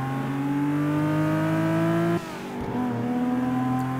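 A vintage car in Forza 5 accelerating hard, its engine note climbing steadily in a loud, close drone, briefly dropping at a gear change before pulling up again.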